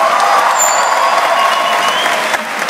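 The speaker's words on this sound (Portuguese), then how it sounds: "Palmas para Rodrigo de Arruda" Crowd applause at a live comedy show in Salvador, a loud, continuous wash of clapping from a large audience that holds steady and eases off slightly at the end.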